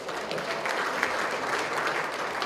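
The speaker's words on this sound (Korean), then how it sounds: "힘내라고 박수 한번 주십시오" An audience at a Rotary club founding ceremony in Cheongju gives a dense, continuous round of applause that stays even for the whole stretch, with no talk over it.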